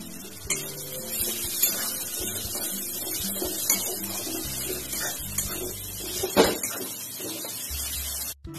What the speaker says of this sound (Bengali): খুব সামান্য একটু মশলা ধোয়া জল দিয়ে দিলাম।